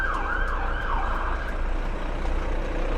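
A police or ambulance siren passes along a Dublin city street, its wailing tone sweeping up and down loudly and steadily over a low traffic rumble.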